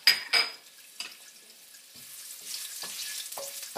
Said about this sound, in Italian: Quando l'olio è caldo mettete il peperoncino